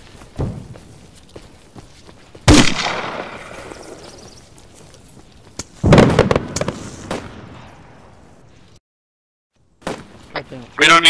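Sharp sniper gunfire in ArmA III, a few loud cracks spaced several seconds apart at close range, with scattered fainter impacts and brief rustling between them.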